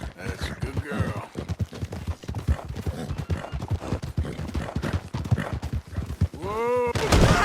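Horse hooves clip-clop in Red Dead Redemption 2 as a steady run of close, rhythmic thuds. Spoken remarks and a few sharper knocks sit on top, and a brief whinny-like sweep comes near the end.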